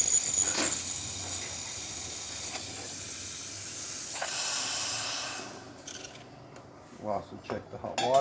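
The steam wand of a freshly serviced Breville espresso machine hisses steadily for about five seconds, then cuts off, followed by a few faint clicks and handling sounds.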